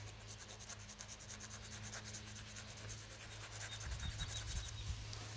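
A file is drawn repeatedly across a chicken's overgrown beak, making close, quiet, rhythmic rasping strokes at a steady pace, with a low hum underneath.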